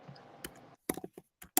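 Typing on a computer keyboard, a short burst of quiet close key clicks in an irregular rhythm after a faint moment of background murmur.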